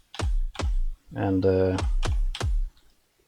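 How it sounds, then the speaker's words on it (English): Keys on a computer keyboard struck one at a time give about five sharp, separate clacks with a short spoken word between them. "you can even use the keys on your typing keyboard here"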